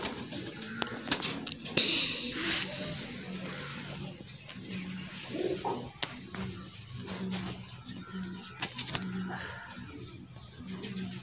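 Sialkoti pigeons cooing in a loft, repeated soft coos near and further off over a faint background of clicks and distant traffic.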